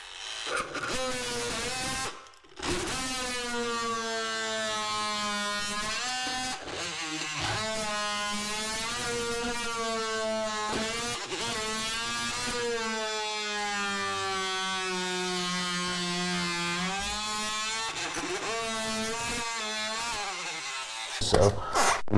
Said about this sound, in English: I'll use my favorite tool here, multi-tool with a carbide blade for grout